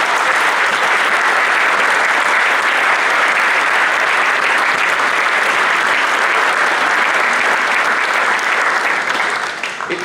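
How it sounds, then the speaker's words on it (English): An audience claps steadily for a foundation at a talk, a dense, loud, sustained wash of applause that holds for the whole stretch and only begins to thin at the very end. "please a warm round of applause for this great foundation."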